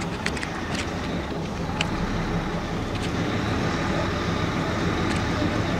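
The V6 engine of a Mercedes Actros 1844 truck runs on the road, a continuous broad drone heard from inside the cab with a few faint clicks and no clear talk.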